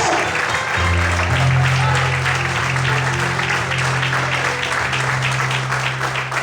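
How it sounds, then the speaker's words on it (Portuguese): A church congregation claps steadily at an evening service, a dense continuous applause carried over held keyboard chords that enter shortly after the start. "Aleluia, aplauda o Senhor."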